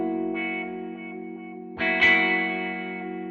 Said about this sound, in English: That is indeed a wah.